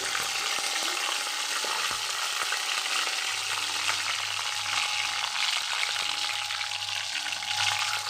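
Two bay leaves and white cumin seeds sizzling in about two spoons of hot oil, a dense continuous crackling hiss with faint stirring clicks, close and unbroken, without speech.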